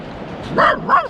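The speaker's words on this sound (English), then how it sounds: "We get attacked by very large dogs." Large dogs give two quick, close, loud barks near abandoned buildings on a day out at Newquay in Wales.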